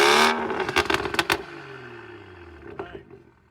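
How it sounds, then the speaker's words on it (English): A tuned BMW M2 Competition revs with its exhaust valves closed, giving a sharp opening blip followed by several quick throttle bursts and a fading, muffled rumble, close and loud with no talk. "do you want to give it a rev with the valves closed?"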